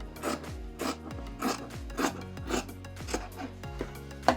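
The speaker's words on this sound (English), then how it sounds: "now I'll just give it a bit of a trim" Scissors trim through dress fabric at close range in about nine crisp, evenly spaced snips, each a short rasping cut, with no talking.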